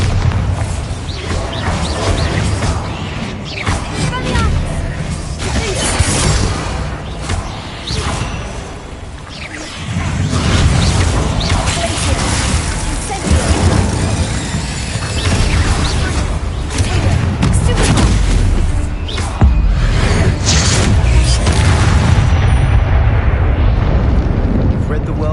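A loud magical blasting spell, Bombarda, goes off as a deep booming explosion with a roaring whoosh and rumbling debris. It sounds close and swells again partway through amid dense, continuous noise.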